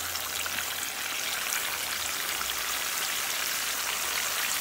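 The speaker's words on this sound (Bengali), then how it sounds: "আমি চিকেনগুলো এখন ভাজি করছি।" Chicken frying in oil for an Eid meal, a steady dense crackle and sizzle that holds evenly throughout, close and moderately loud with no voices.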